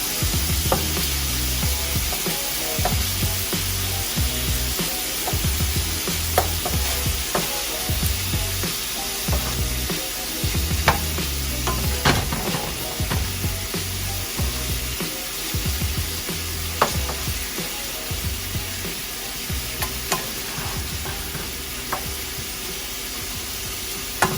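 Shrimp sauté in a hot pan with a continuous, close sizzle and frying hiss, punctuated by small clicks and stirring movements, with no talking.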